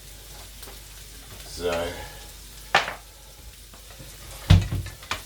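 Frankfurters fry in a pan with a soft, continuous sizzle, broken by a few sharp clinks and clatters of utensils; a voice briefly says a single word.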